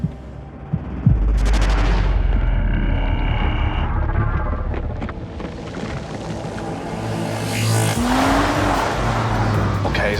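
A Jaguar XF All-Wheel Drive car runs a cone course, its engine droning loudly and steadily, with a short squeal of tyres and a rising rev near the end.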